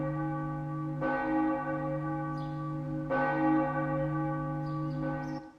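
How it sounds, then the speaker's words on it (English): A large church-style bell tolls in the anime I Want to Love You Till Your Dying Day, two strikes a couple of seconds apart with a long sustained ringing hum between them, clear and steady with no voices. "Is that a CGI bell?"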